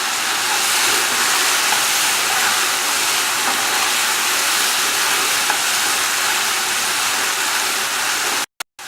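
Curry leaves and ginger fry and sizzle in a pan while being stirred, a steady dense hiss held at constant loudness from start to finish that cuts off briefly near the end.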